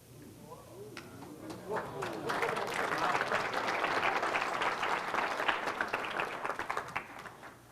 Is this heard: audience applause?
yes